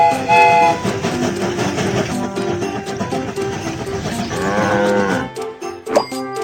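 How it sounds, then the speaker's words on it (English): Cartoon train setting off in the BabyBus Panda Train children's game, with bright synthesized music and jingly game effects playing continuously, a rising chime flourish near the end and farm-animal cues mixed in. "The train is about to start."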